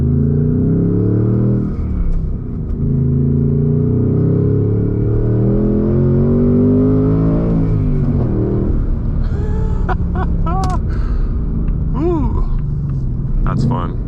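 A manual 2026 Ford Mustang GT V8 rumbles and revs while driving, rising through a gear then dropping, with someone talking throughout.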